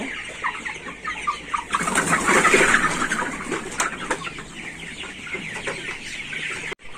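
Broiler chickens at market weight clucking in a poultry shed, a dense continuous chorus of overlapping clucks and chirps heard close, without talk.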